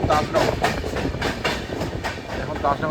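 The Barbil Express passenger train rolls along steadily, with a continuous rumble and faint rhythmic wheel clatter heard from on board at moderate volume.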